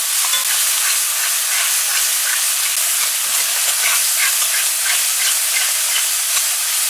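Curry paste and onions frying together in a pot, a loud, continuous hissing sizzle with a fine crackle running evenly throughout.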